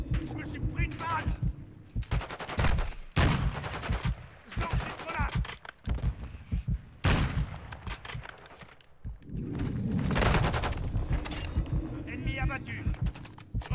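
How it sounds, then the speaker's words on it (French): Gunfire in a Call of Duty match, with repeated bursts of shots in quick succession rising and falling under frequent French-speaking voices. "Mais viens d'où tous ces tirs?"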